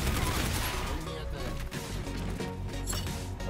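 Dense, muffled gunfire crackles in Call of Duty: Infinite Warfare, with overlapping shots and explosive thumps under a busy game mix that stays loud throughout.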